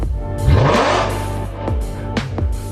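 A BMW E92 M3 with a Valvemaster full catback exhaust revs hard and close, one loud rising sweep followed by two or three sharp blips, the exhaust note filling the short stretch without any talking.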